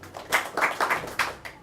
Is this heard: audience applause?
yes